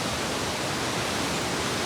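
Bhorle waterfall pours with a steady, dense rush of falling water, an even broadband roar that holds constant throughout with no voices.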